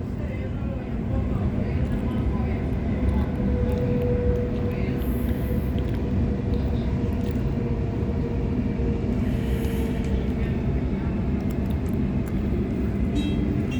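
A Sydney Trains T5 A-Train runs between Parramatta and Cabramatta, producing a steady, continuous onboard rumble and rolling hum that holds at an even level throughout.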